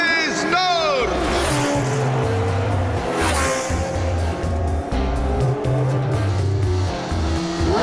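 Cartoon race cars revving their engines at the start of a Grand Prix among champions, loud motor roars and whines layered together, with an announcer talking over them.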